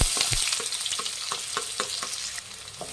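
Finely chopped onions and a sprig of curry leaves hit hot oil in a dal fry tempering, giving a steady close sizzle broken by repeated spoon scrapes and light clinks against the pan.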